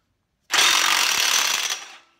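A pneumatic impact gun, stepped down from a 3/4 inch to a 1/2 inch socket, rattles hard in one loud, close burst of about a second and a half, loosening the flywheel nut on a rotary engine, then winds down.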